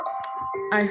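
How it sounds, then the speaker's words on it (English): An alarm sounds with steady tonal beeping, loud and close. It swells near the end and plays under a brief spoken word. "that's my alarm telling me I need to go to the airport."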